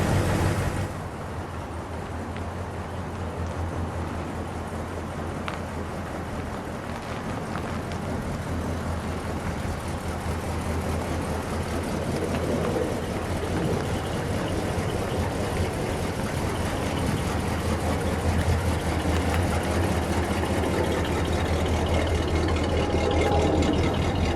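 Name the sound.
1960 Chrysler 300F hardtop engine running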